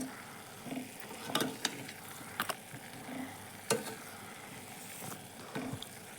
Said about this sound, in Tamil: நல்லா கலந்து கொடுத்துட்டு அதுக்கப்புறம் பார்க்கலாம்